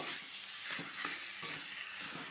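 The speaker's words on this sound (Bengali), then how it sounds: "একটু কষিয়ে নেব ভালো করে।" Papaya curry with turmeric and slit green chillies stir-fried in a pan: a steady, moderately quiet sizzle with soft scraping strokes of stirring recurring throughout, no voices.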